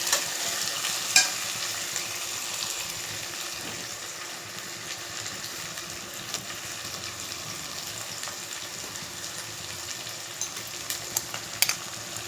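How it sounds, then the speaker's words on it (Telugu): Rajma masala fries in a pan with turmeric, salt and chili powder, a soft continuous sizzle with occasional scraping stir clicks, close and fairly quiet, with no voices. "కొంచెం పచ్చివాసన పోయేదాకా ఫ్రై చేసేసుకుని"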